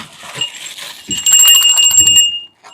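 A small brass puja bell from a worship plate for Vat Savitri Purnima rings with bright, sustained metallic chimes for over a second, then falls quiet, after softer rustling.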